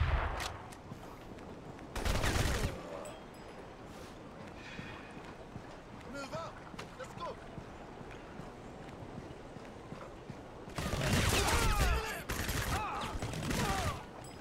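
Gunfire in the video game Crysis Warhead, loud bursts of automatic fire at the start and again near the end, with quieter crackling shots and game ambience between.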